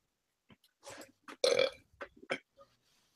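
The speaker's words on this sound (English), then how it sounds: "The burp." A single drawn-out burp rumbles close and loud in short bursts over about two seconds, with a quiet room around it.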